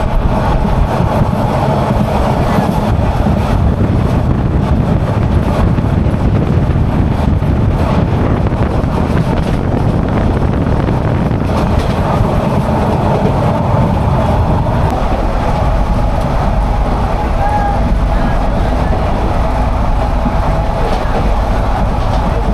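Passenger train pulling into Ramu Cantonment station in Bangladesh on the Chittagong to Cox's Bazar line, a loud continuous rumble of carriages and rolling wheels heard from on board, with heavy wind buffeting the microphone throughout.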